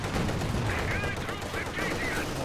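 Grenadier rifle and machine-gun fire in the real-time strategy game Company of Heroes 2, a dense, continuous loud clatter of shots with battle noise throughout.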